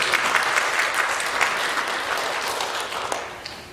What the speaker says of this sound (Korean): 우리 하나님께 영광의 박수를 한번 드립니다.